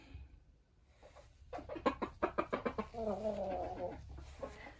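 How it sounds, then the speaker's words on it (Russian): A hen in a chicken coop gives a rapid burst of loud clucks, then a drawn-out squawking call, close by over a quiet background. "слышу в курятнике кто-то кричит, курица"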